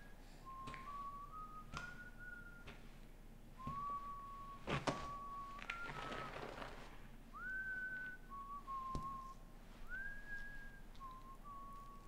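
A man whistles a slow, meandering tune of short held notes in the video game Resident Evil 6, close and clear, broken by occasional thuds and knocks, with no talking.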